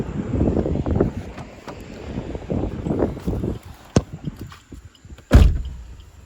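Strong wind buffets the microphone outdoors beside a car on a highway trip through Karnataka, heavy low rumbling gusts rising and falling throughout, with a couple of sharp knocks near the end and no talking.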